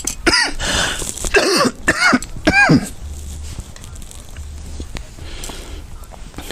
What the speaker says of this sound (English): It causes me to cough when I talk too much.